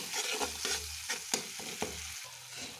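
A spoon stirs turmeric and sugar into a gently sizzling pan of loach fish curry, with soft scraping strokes over a steady low fry and no voices.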